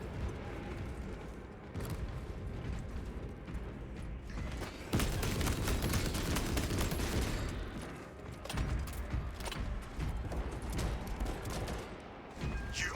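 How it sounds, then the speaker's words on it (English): Automatic weapon fire in a video game rattles in dense rapid bursts with heavy booms mixed in, loudest in the middle, set against continuous battle noise with no clear talking. "Automatic weaponry engaged."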